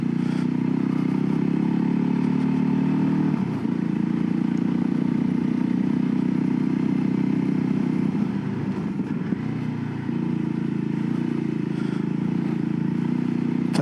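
A Voge 300 Rally motorcycle chugs through mud off-road, its engine a loud low thrum that dips and surges twice as the bike slogs through soft ground, with scraping and clatter, no talking.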